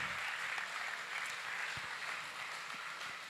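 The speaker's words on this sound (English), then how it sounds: "that deserves a round of applause" Audience applause at an International Youth Day event, a steady, dense wash of many hands clapping at a distance, fairly faint and continuous without a break for the full stretch.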